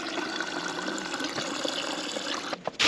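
Water runs steadily from the dispenser of an LG LRFVS3006S refrigerator, flushing a newly installed water filter; a continuous close, even splashing stream fills the clip before briefly cutting off and resuming near the end.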